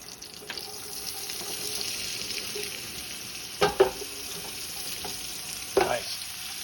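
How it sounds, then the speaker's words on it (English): Beef browning in a pot for beef bourguignon, a steady sizzle throughout with two bursts of spoon scraping and clatter as the meat is moved. "We're going to brown it nicely."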